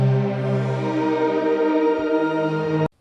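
Synth pad patch run through shimmer reverb, with pitch shifters set up an octave and an octave plus a fifth, gives a sustained, bright chord that rings steadily for almost three seconds, then cuts off abruptly.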